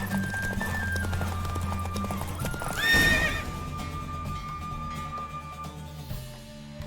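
A galloping horse in a race in the Witcher 3 video game, with rapid rhythmic hoofbeats and a loud whinny rising midway, set against a steady low background tone.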